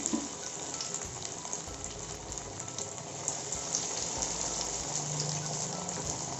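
A burger patty fries slowly in oil over low heat, giving a continuous soft sizzle and crackle with scattered small pops that hold at a steady level throughout.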